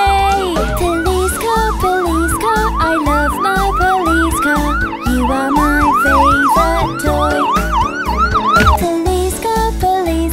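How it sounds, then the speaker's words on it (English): A wailing police siren in a children's nursery song sweeps up and down repeatedly over a thumping, bass-heavy musical backing, loud and continuous. "When the siren makes a sound, my police car always saves the day"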